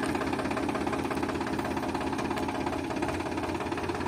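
Tractor engine running while pulling a lift harrow in a field: a steady, loud, continuous diesel rumble with a knocking throb, unbroken throughout.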